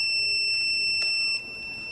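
A contestant's buzzer at a school science and maths quiz competition sounds a sharp, bright electronic tone for over a second, then cuts off and leaves quiet room tone.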